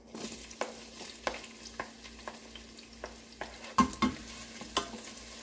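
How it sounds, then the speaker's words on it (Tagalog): Onion sautéing in a pan as the base for ginisang munggo, the green mung bean stew. A soft steady sizzle runs under regular sharp scrapes and taps of a spatula, close up with no voices. "So ngayon magigisa na tayo. So this is onion."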